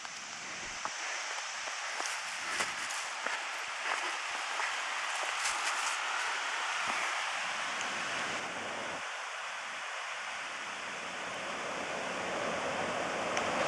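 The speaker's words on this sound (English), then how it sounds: "listen to the sound of that rushing water" Water rushing loudly through Clifton Gorge on a late-summer day along the North Rim Trail, a steady broadband roar that holds evenly from start to finish with no one speaking.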